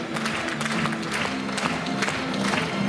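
An audience at a school graduation ceremony claps steadily throughout, a sustained wash of applause from a room full of people, with a faint murmur underneath.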